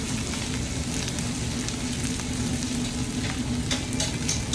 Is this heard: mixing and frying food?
yes